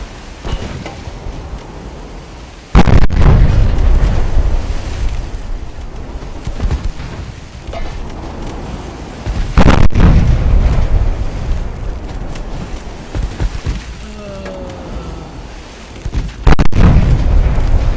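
Heavy booms from 4-inch naval guns firing at transports in Ultimate Admiral: Dreadnoughts, three loud separate blasts several seconds apart over a steady sea and wind wash.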